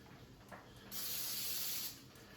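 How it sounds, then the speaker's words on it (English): A single steady hiss of cooking spray sprayed onto the bottom of a pan, lasting about a second, close and fairly loud, with faint kitchen clatter before it. "So I always spray the bottom of my pan."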